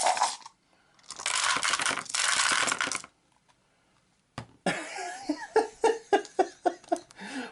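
Nine dice rattling and clattering across a tabletop during an Arkham Horror board game, a burst of shaking followed by a run of sharp, close clicks as they tumble and settle.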